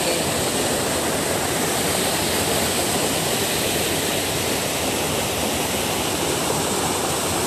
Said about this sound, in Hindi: वो कितना कितना एमएलडी जा रहा है देखो, सात एमएलडी कितना पानी जा रहा है बताओ।